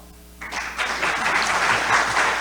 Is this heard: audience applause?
yes